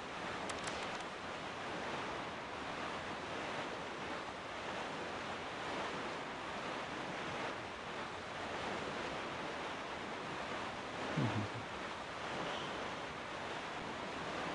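Ocean waves and wind make a steady, even wash of surf while a small boat sails across the open sea in The Legend of Zelda: The Wind Waker. No voices are heard.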